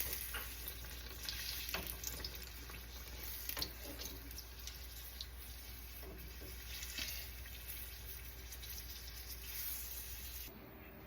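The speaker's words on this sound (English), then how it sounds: "we dropped it in the grease" A Zebra Cake deep frying in grease that is a little too hot, giving a steady, even sizzle and crackle with brief pops, close up and continuous with no talking.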